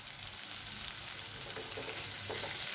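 Soybeans and tomato sautéing in a pan over low heat give a faint, even sizzle that swells slightly toward the end, close by, with no talking.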